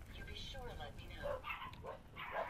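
Pet dogs yipping and barking in the background during the day, several short, faint barks spread across the stretch, with a person's voice nearby.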